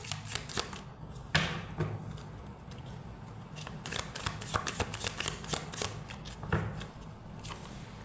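Tarot cards are shuffled and drawn from a deck in a series of quiet, close, papery flicks and riffles, with soft taps and slides between them and no talking.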